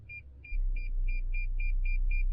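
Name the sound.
Toyota Tundra SR5 parking sensors beeping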